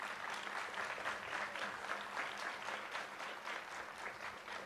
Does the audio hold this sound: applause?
yes